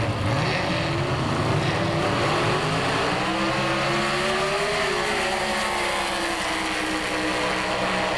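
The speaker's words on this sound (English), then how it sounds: "Alky dragsters and alcohol funny cars have been called to the staging lanes." Alcohol dragster and funny car engine roaring loudly at a 1990 drag race, a dense continuous engine note with shifting pitch as revs rise and fall.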